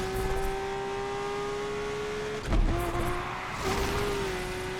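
Lamborghini Aventador engine in Need for Speed Unbound holding a steady high drone, with a brief gear-change dip midway before it settles back into a sustained, even roar.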